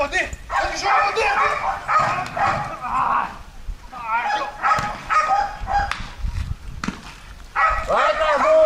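A dog barks and yips repeatedly at close range, sharp excited bursts mixed with whimpers, while people talk loudly over it.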